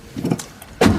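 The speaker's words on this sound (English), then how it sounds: "Start the truck." A truck engine cranks and catches with a short, loud burst near the end, after a brief stretch of faint mechanical clicking.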